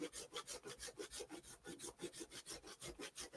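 Steady back-and-forth rasping of a hand saw cutting scale model roof shingles for a diorama, about three strokes a second, close and clear with no talking.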